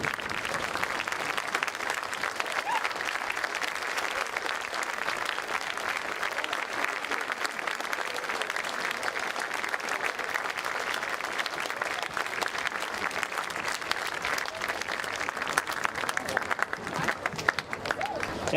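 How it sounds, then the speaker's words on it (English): A high school assembly audience stands and applauds local heroes on Patriot Day, giving steady, dense, loud clapping from a large crowd that fills the hall for the whole stretch without a break. "would you please stand and join me in giving our local heroes who work so hard to keep us safe a big round of applause"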